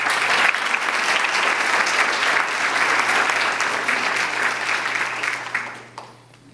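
Audience applause following speeches at a pinning ceremony, a dense, even round of clapping from a crowd that holds steady for several seconds and then tapers off quickly at the end.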